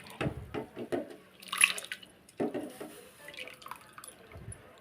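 Soaked rice and its soaking water are poured into a pot: splashes and pouring with intermittent drips and clinks, close by and fairly quiet.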